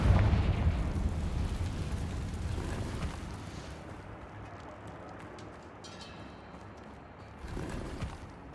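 A Confringo fire spell explodes in Hogwarts Legacy as a loud, rumbling blast that fills the opening seconds. It decays into a roaring tail, and a second, smaller burst comes near the end.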